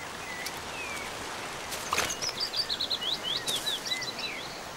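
By a forest stream, a dipper gives a rapid string of sharp, high twittering notes lasting a few seconds, clear above the constant rush of flowing water.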